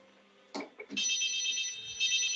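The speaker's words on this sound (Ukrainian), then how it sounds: "на цей телефон має відповісти" A telephone rings with a steady electronic trill during a Ukrainian television talk-show broadcast. It starts abruptly after a couple of brief knocks and keeps sounding loud and continuous to the end.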